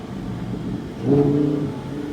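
A 2020 Lamborghini Huracan Evo engine in Corsa mode hums along at low speed around town, then swells briefly louder as it revs up before settling back down.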